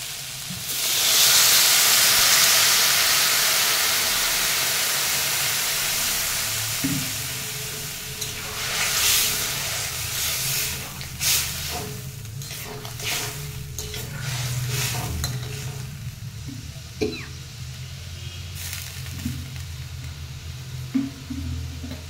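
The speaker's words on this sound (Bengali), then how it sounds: "এখন জল দিয়ে দিচ্ছি।" Water poured into a hot pan for a Bengali fish curry with begun and katla fish, a loud burst of hissing steam and sizzling that fades to softer bubbling, stirring and scraping clinks.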